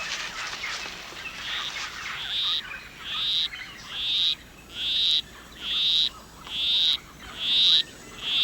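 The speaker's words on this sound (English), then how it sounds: "A male poison arrow frog is courting a female. With his monotonous song, he will try to entice her to follow him under a leaf" A male poison arrow frog courts a female in the rainforest with a monotonous call: about eight evenly spaced, loud buzzy pulses, close and alone over a soft background.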